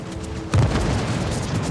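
Bomb explosion in World of Warships, a sudden deep boom that swells and then rolls on as a sustained low rumble, loud and close.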